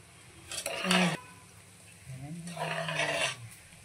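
A snack roasting in a pan, stirred in two bursts of scraping and rattling with a quieter stretch between, close by.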